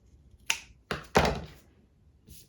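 Scissors snip through the fabric seam allowance of a sewn sunglasses case, trimming close to the stitch line: three or four crisp, close cuts in an otherwise quiet room, with the middle pair coming in quick succession.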